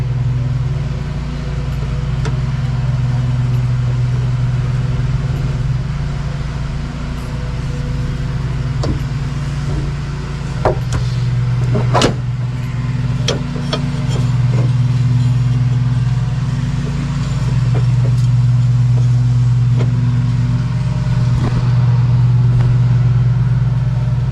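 A riding lawn mower runs with its deck belt engaged, a steady loud engine drone close by with faint clicks and rattles over it and no talking.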